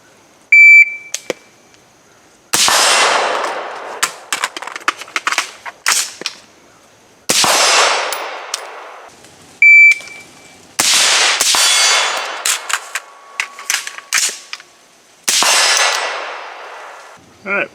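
An LWRC DI IC AR-pattern rifle fires four loud, sharp shots a few seconds apart, each followed by a ringing echo tail. Small metallic clanks and clicks sit in the gaps between shots.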